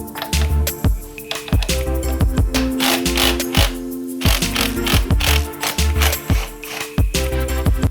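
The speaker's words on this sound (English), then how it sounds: "Let's start by removing the central nut with a 21mm deep socket." A ratchet with a 21mm deep socket undoes the central transmission mount nut on a Mk1 Ford Focus, loud close rapid clicking in repeated quick bursts.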